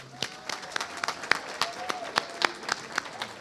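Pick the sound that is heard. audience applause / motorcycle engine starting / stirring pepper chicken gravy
audience applause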